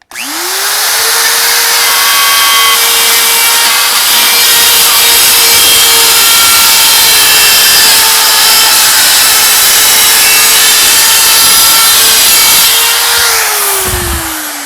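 A Roto Zip spiral saw spins up and cuts through drywall around an electrical box, a loud, sustained high whine with gritty cutting noise lasting the whole stretch before winding down at the end, no speech.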